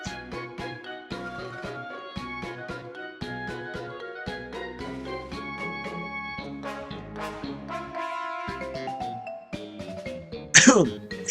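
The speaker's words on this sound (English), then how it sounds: "I apologize for sneezing so loudly into the mic." Background music plays throughout, then near the end a single loud, close sneeze bursts out and fades.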